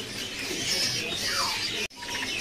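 A male red avadavat in a bird-selling kiosk gives thin, high chirps and a short sliding call, fairly close among other cage-bird sounds, with no talking.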